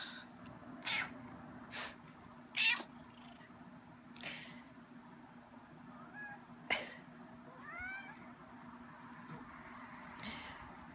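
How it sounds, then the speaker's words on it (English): Pet cats meowing indoors in the evening, several short and drawn-out meows scattered across the stretch, moderately near, over a steady low background hum, with no talking. "my cats are making their presences known."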